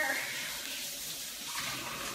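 Tap water runs steadily from a touch-sensitive kitchen faucet as oven mitts are washed under it, a continuous close hiss and splash lasting the whole moment.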